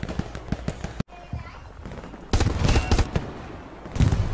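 Bullets cracking against enemy soldiers' helmets during headshots in a shooter video game, rapid clustered metallic hits in loud bursts separated by a quieter stretch, with a player's voice talking in places.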